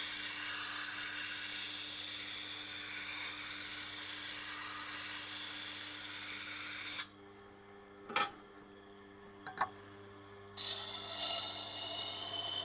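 A Victorinox cleaver grinds against a coarse 80-grit stone on a Tormek sharpener, a steady loud hissing rasp that cuts out for a few seconds of near quiet with two small knocks, then resumes.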